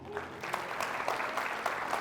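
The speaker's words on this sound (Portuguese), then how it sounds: "Então você pode dar um aplauso ao Senhor?" Church congregation applauding during a sermon, a steady wash of clapping at moderate level with no talk over it.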